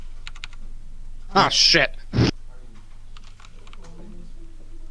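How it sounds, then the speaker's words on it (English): Brief bursts of keystrokes on a normal computer keyboard, a few scattered clicks around a loud exclamation from a nearby speaker, over a steady low hum. "I haven't used a normal keyboard in so long."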